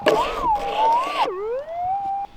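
A metal detector sounds over a gold nugget while prospecting: a loud warbling electronic tone rises and falls, breaks off, then settles into a steadier lower whine.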